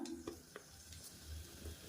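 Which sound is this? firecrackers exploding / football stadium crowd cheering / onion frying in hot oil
onion frying in hot oil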